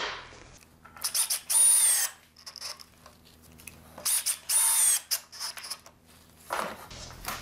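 Power drill driving construction screws into a pallet wood door jamb: two long, loud whining drive bursts with shorter trigger blips between them, close and alone without talk.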